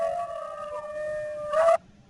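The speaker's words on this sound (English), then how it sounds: "hopefully you can hear the howling on my computer" Recorded canid howl played back through a computer: one sustained, wavering tonal howl with strong harmonics, rising sharply near the end before cutting off abruptly.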